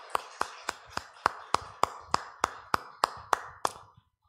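Worship clapping at a Sunday church service: about a dozen sharp, evenly timed claps in a brisk steady beat that stops abruptly, leaving silence.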